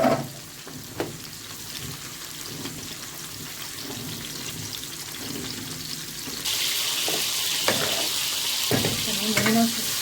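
About a kilo and a quarter of tomatoes hit a hot pan and fry with a steady, close sizzle and occasional stirring scrapes, the hiss swelling louder and brighter partway through.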